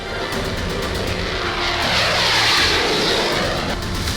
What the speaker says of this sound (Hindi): कश्मीर के आसमान में लड़ाकू विमान MiG-29 हुंकार भर रहे हैं।